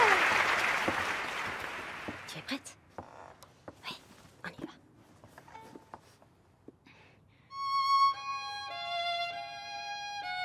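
An audience applauds at a Christmas concert. Loud clapping starts at once and thins out into scattered claps, then a tonal, song-like sound rises near the end.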